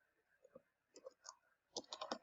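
Quiet, close keystrokes on a computer keyboard, a few scattered taps followed by a quicker burst of typing.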